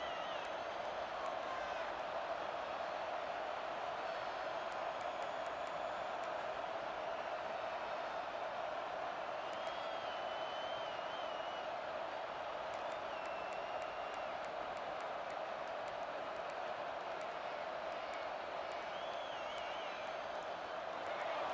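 A college football video game crowd keeps up a constant roar of cheering and whooping in a large stadium, steady and fairly quiet under faint game commentary.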